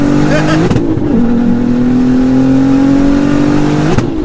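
A modified sleeper car's engine revs up loud and close, a steady rising drone with a sharp gear change near the start and another near the end.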